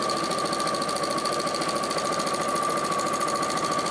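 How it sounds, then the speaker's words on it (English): An Elna sewing machine fitted with a walking foot stitches fabric at a steady pace, a fast rattly mechanical patter with a sustained whine, alone and fairly quiet. "the machine might sound a little bit noisy because I've got the walking foot on there"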